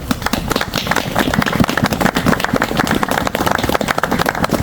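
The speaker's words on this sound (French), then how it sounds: "nous applaudissions sa famille" An outdoor audience at a memorial ceremony in the Sadzot woods of the Ardennes applauding a family, dense sustained clapping from many hands close by, lasting throughout.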